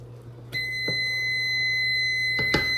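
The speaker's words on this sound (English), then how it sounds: "Okay, that's our timer." A kitchen timer goes off while strawberry jam is being made, a steady high electronic beep starting suddenly and holding over a faint low hum, with a couple of soft knocks.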